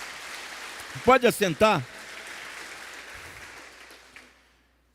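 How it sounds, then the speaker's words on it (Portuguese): A church congregation claps in steady applause while someone briefly speaks over it, and the clapping gradually thins and fades out toward the end. "Dá uma salva de palmas para Jesus, meu irmão."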